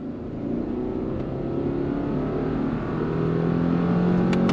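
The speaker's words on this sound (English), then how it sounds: "From a dead stop, on throttle, here we go." A 2024 Subaru Crosstrek Sport accelerates from a stop on gravel, its engine droning steadily and climbing in pitch as it gathers speed, heard from inside over a continuous low road rumble.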